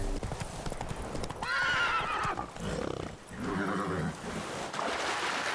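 Horse in The Witcher 3 video game, with rapid galloping hooves clip-clopping throughout and two loud whinnying neighs, close and prominent over a wash of background noise, with no talking.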